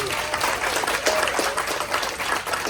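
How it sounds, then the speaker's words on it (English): A cruise-ship audience of marketers breaks into applause, a dense continuous wash of clapping from a crowd, steady and fairly loud for a few seconds. "let's have a big round of applause for Mr."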